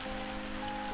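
Steady, dense rainfall pours down in the video game Pumpkin Days, a constant even hiss of drops striking surfaces with no pauses and no voices.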